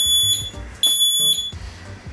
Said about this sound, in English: I've tested the smoke detector again, with my phone set to 4G and it actually worked.